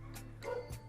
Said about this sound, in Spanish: Bueno, escuchan los perros,